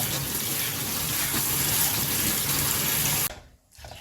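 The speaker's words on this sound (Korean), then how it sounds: "물에 이렇게 살짝 한 번만 샤워만 시켜주면 돼요." Tap water runs steadily over blanched green onions being rinsed in a sink, a loud continuous gushing splash that cuts off abruptly near the end, followed by a brief quiet drip and no speech.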